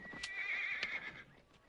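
A horse whinnies loudly and close by in a short, shrill, wavering call, with faint hoof clatter underneath and no talk.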